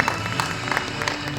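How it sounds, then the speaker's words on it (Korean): An audience applauds in a hall at an industry association's annual awards ceremony, a steady wash of many hands clapping at once. It sounds moderately loud and even throughout, without speech on top. "축하의 박수 부탁드립니다"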